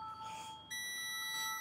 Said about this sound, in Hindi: देखो बीप आ रहा है